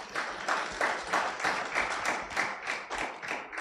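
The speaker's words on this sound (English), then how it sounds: "I thought we would clap for that." A crowd claps in rhythmic unison at a business leadership event, with steady, fairly close, evenly spaced beats through the whole stretch.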